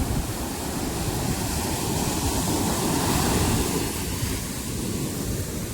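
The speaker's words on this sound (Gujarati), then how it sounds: "એટલા મોજા આવે." A rough, stormy sea surges onto the shore in a continuous loud roar of breaking surf, mixed with wind rumble and no voices.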